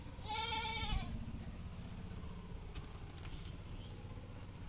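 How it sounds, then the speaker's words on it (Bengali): A goat gives one clear, wavering bleat close by, followed by quieter rustling and ambient outdoor noise. "ছাগলটা ভ্যাবা করে ডাকছে অনেকক্ষণ ধরে"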